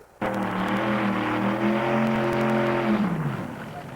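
A loud hill climb truck roars up a mountain course at a 1985 Teays Valley event, its engine droning at a steady high pitch that rises, holds, then falls away near the end, with no talk.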